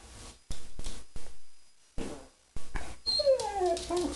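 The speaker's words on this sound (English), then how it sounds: "That's a dog." A dog whimpering and yipping indoors in a house, several short close whines and high cries separated by pauses, alone without talk.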